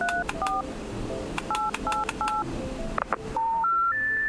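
In the video game Dimhaven, a telephone is dialed: a sequence of distinct DTMF keypad tones, some short and clustered, others longer and rising in pitch near the end, with soft clicks and faint background sounds.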